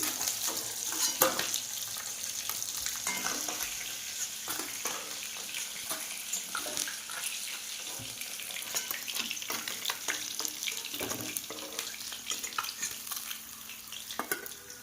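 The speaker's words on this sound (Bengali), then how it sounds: "এবার আর এই যে 2 পিস মাছ আছে, এটাও ভেজে নিই।" Steady, close-up sizzle of fish frying in hot oil, with occasional clinks and stirring sounds, no talking.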